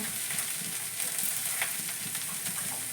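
Potato boiled the night before, ginger, garlic and onion sizzle steadily in a wok, with a continuous loud frying hiss broken by scraping stirring strokes and no talk.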